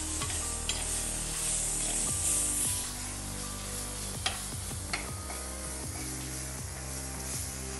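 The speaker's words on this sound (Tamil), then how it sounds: "வெங்காயமும் பூண்டும் நல்லா வதங்கிட்டு பாருங்க." Onion and garlic sauté in hot oil for a fish curry, a constant close sizzle with repeated scraping strokes of a spatula against the pan, no voices.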